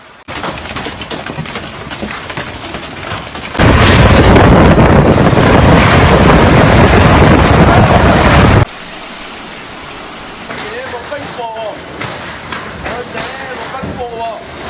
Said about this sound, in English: Footage from locals showed rivers of melting hail cutting through streets.